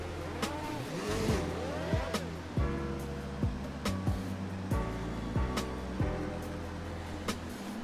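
Race cars in the F1 2019 video game at the Bahrain circuit, idling and revving on the starting grid, with several engine notes rising and falling and sharp blips repeating through the clip, steady and close.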